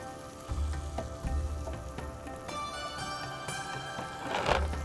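Eggs fry in a pan for a Pakistani egg curry, giving a steady crackling sizzle up close, with soft low thumps and a few clinks of utensils over the cooking hiss.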